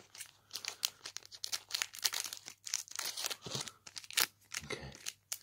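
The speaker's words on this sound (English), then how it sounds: "We'll just cut it open." Foil wrapper of a Pokémon Silver Tempest booster pack being cut and torn open, giving close crinkling, tearing rustles in irregular bursts with no talking.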